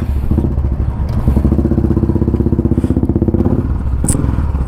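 Royal Enfield Bullet motorcycle fitted with an aftermarket Moto Wing air filter, running close by with a loud, steady, thumping single-cylinder beat and mechanical clatter, no talk over it.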